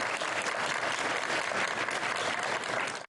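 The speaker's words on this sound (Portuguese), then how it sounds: "os braços erguidos em comemoração e muitos aplausos" A crowd celebrating a Brazilian Army veteran's recovery from illness breaks into sustained applause, dense, even clapping heard close and continuous for a few seconds before cutting off.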